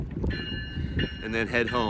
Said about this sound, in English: Sorry about the loud train.